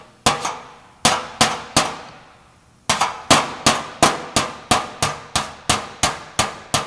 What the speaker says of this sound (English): I'm kind of hammering it in towards the low area